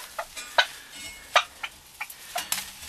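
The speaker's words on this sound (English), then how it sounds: "These are our baby turkeys." Baby turkeys kept under bright heat lamps on a farm during winter chores: scattered short, high peeping calls from several birds at close range, irregular and fairly faint against a steady background hiss.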